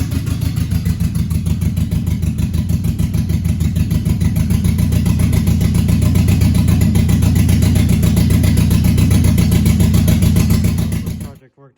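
A car engine runs steadily after its cylinder head is bolted back on, a loud close rumbling idle with a regular pulse lasting several seconds before cutting off abruptly.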